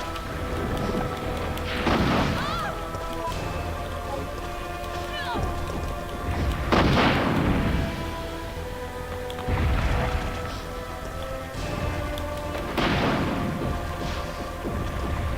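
Rocket launcher fire and explosions in Resident Evil 3 (1999): heavy booming blasts repeat every few seconds, each rising above a steady backdrop of game ambience and music.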